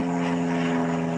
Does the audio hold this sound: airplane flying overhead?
yes